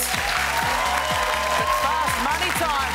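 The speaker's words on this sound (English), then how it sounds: "Round of applause one more time for the Urquharts." Game show studio audience applauding a contestant family, the Urquharts, on Family Feud; continuous loud clapping with rhythmic music pulses underneath for the whole few seconds.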